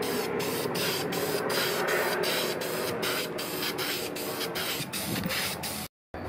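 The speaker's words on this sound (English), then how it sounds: "Alright, painting now." An aerosol can sprays wrinkle paint onto an engine valve cover in a rapid series of loud, hissing bursts. The spraying runs almost continuously, then drops out briefly right at the end.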